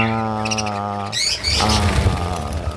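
Pet parakeets kept by a breeder give a burst of chirps and tweets up close, with a steady harmonic tone underneath at first, then a busier stretch of overlapping calls.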